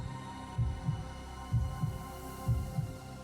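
Heartbeat sound effect set under a Hindi thriller story narration: a steady lub-dub thumping, three double beats about a second apart, low and soft over a faint hum, with no voice.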